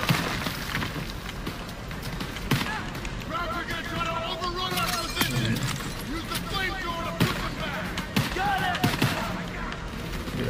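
Gunfire from the World War II shooter Call of Duty WWII during a church escape level, with repeated sharp shots and bursts mixed into busy game noise and music while someone talks excitedly over it.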